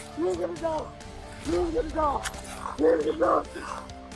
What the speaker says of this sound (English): Please get the dog," the suspect screamed in the footage as Leo kept biting